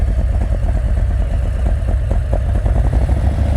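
A motorcycle engine idles and pulses steadily at low revs during advanced slow-speed riding practice in Texas. The throb is close, continuous and loud throughout, with no speech over it.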